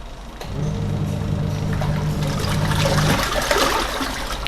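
A twin-tub washing machine from Lazada churns water in its wash tub, a loud close sloshing and gurgling with a steady low motor hum that cuts out near the end as the water keeps swirling.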